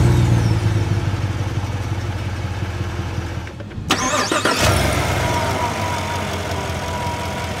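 A 2015 GMC Yukon Denali started by push button: a loud crank catches and the engine settles into a steady, smooth idle heard up close.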